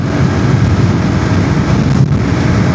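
Steady, loud wind roar buffets the microphone throughout, a dense low rumble like air tearing past while riding a KTM RC 390 motorcycle at speed.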